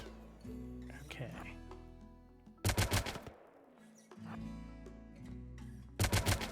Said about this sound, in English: continues shooting